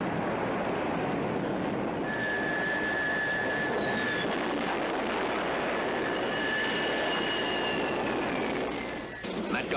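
A damaged plane comes in to land on an aircraft carrier, a loud sustained roar of aircraft engines with a whining tone sliding across it, cut off abruptly near the end.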